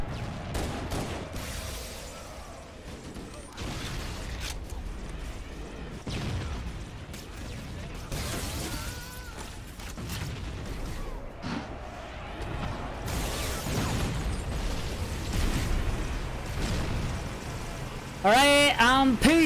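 Tank cannon fire and explosions in Halo: Combat Evolved Anniversary, a dense, continuous barrage of loud bursts and crashes layered over game sound, with a sharp tonal burst near the end.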